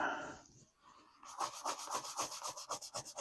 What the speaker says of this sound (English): And just start scrubbing.